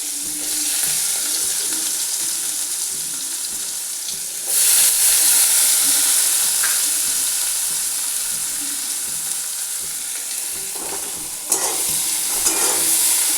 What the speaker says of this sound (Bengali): পেঁয়াজটা একটু লালচে করে ভাজবো।